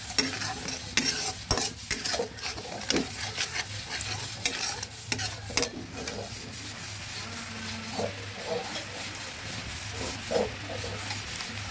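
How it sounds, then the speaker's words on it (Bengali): Vegetable koyash with salt and green chillies is stirred in a frying pan, with rapid repeated scraping and rubbing strokes over a steady low sizzle, close and fairly loud, and no voices. "ভালোভাবে নেড়ে দিচ্ছি"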